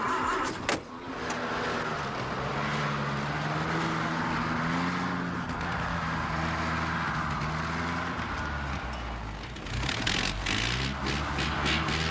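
An old army van pulls away, engine droning steadily and rising in pitch as it drives off through gear changes, loud and continuous with a brief knock near the start.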